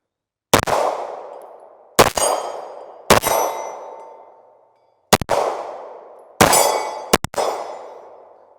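A CZ Shadow 2 handgun fires at a small steel popper target, giving six sharp shots that each ring with a metallic clang and fade out, spaced a second or two apart with a quick double near the end.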